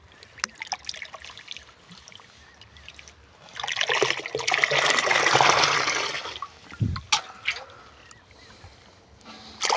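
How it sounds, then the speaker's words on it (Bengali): Small bata fish tipped out into a small pond set off a burst of splashing and pouring water that rises mid-clip and fades. Scattered knocks and drips come before and after it, close and fairly quiet. "এই যে বন্ধুরা এবার ছেড়ে দেবো মাছগুলো"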